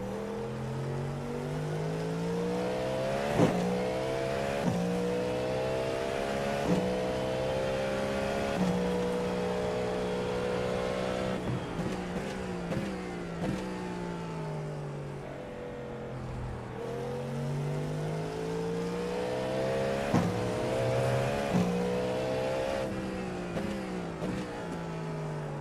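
An LMP2 prototype race car engine in the iRacing sim roars steadily and loudly, its pitch climbing and dropping repeatedly through upshifts and downshifts, with no voices over it.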